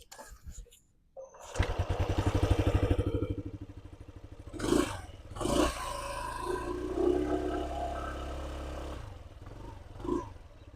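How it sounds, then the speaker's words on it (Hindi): A Hero Xoom 160 scooter with a silent starter fires up quietly and settles into a steady low idle, with a couple of brief throttle blips rising over the hum; a voice talks over part of it. "अभी देखते हैं कि ये साउंड कैसे करती है स्कूटर, जो कि आती है एक साइलेंट स्टार्टर के साथ"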